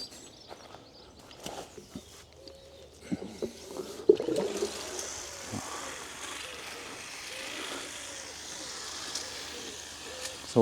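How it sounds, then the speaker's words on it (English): Water pours from a can onto freshly transplanted plants in an allotment, a soft continuous splashing that sets in partway through and carries on, fairly faint, with a few knocks and rustles. "Okay, so these can have a good water."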